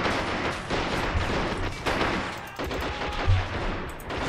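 Battle audio from the PC strategy game Men of War: Assault Squad 2 carries steady machine-gun and rifle fire. The fire is loud and layered, with heavier thumps now and then and no speech over it.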